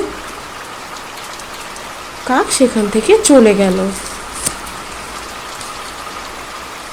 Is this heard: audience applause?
no